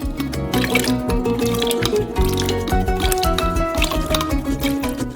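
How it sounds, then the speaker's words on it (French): Vinegar is poured into hot milk, about seven tablespoons, to curdle it into cheese: close, steady liquid dripping and splashing with wet squishy sounds throughout. "Et versez du vinaigre, 7 cuillères à soupe."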